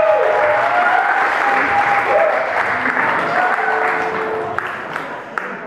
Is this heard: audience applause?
yes